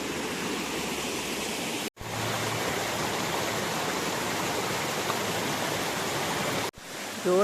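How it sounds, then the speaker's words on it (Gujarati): A rain-fed waterfall in the Lake District roars in a dense, steady rush of falling water close by, cut off twice for an instant, with no voices over it. "એવા મસ્ત ધોધ વયા જાય છે પાણીના"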